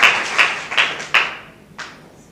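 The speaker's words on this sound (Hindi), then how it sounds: "यीशु के लिए तालियां बजाएं।" Hand claps at a church service: about five sharp, evenly spaced claps ring out close by, then fade into a short, reverberant tail.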